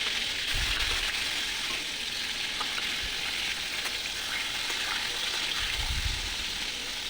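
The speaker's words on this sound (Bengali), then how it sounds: "এক এক করে পটলগুলো আমি ছেড়ে দিচ্ছি।" Pointed gourd slices sizzle steadily in hot oil for a potato and pointed gourd curry, a dense, even frying hiss with a few soft low thumps and no talking.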